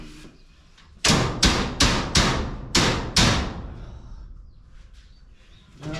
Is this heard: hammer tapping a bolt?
yes